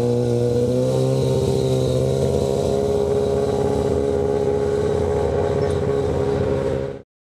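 A big stunt motorcycle's engine holds a loud, steady, close drone of low rumbling harmonics for about seven seconds, then cuts off abruptly, with no voices.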